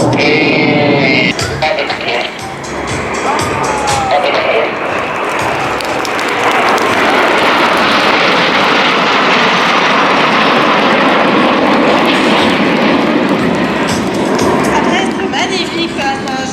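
Patrouille de France jets pass in grand arrow formation at an air show for the team's 70th anniversary, a loud, swelling jet roar that builds and sustains, with a commentator talking over it.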